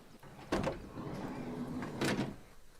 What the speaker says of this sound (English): There's our doors shut